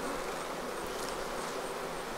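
Honey bees buzz around a hive, a thick, continuous drone of many insects close by.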